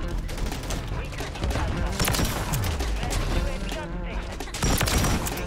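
Rapid bursts of automatic gunfire from the video game Call of Duty Modern Warfare 3, loud and continuous, with a few heavier shots mixed in and faint talk underneath.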